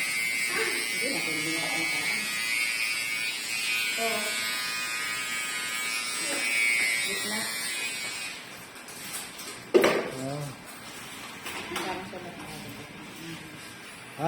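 Electric hair clippers buzz steadily and close up while shaving hair for a boy's haircut, then stop as people talk.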